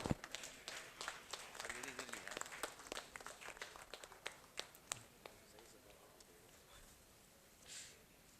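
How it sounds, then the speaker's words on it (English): Applause at a medical association installation ceremony, faint scattered claps from a small audience, irregular and thinning out over several seconds before fading to quiet room noise. "Please give him a big hand of applause."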